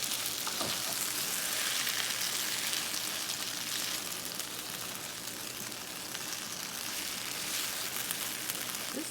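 Aldi frozen chicken lo mein frying in a pan, a steady bright sizzle with faint stirring scrapes, close and continuous, no one speaking.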